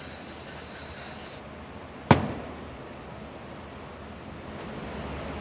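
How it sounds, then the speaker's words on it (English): Water flushes out the bore of a brake wheel cylinder from an M35 military truck as a steady, close spray hiss that cuts off abruptly, followed by a single sharp click and quiet background. "Right now I'm just flushing out the inside of the bore."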